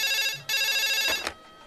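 A telephone rings in a Telugu film scene, two bursts of bright electronic bell tones separated by a short gap, loud and close with no talking.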